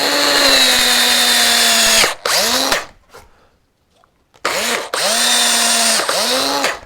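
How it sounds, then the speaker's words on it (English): Power drill boring a pilot hole into wood for a woodcarver's screw, a loud close whine that runs steadily, winds down briefly, falls quiet for about two seconds and then starts up again. "We then drill this in."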